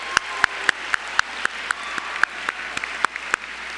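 A graduation audience at the High School of Commerce and Springfield Honors Academy claps in a steady, evenly spaced rhythm of sharp claps over a soft crowd murmur, moderately loud.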